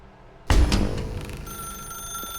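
Old-fashioned telephone in the office video game The Stanley Parable starts ringing. A sudden loud bell jangle breaks in and then settles into a sustained, shimmering ring, with no voice over it.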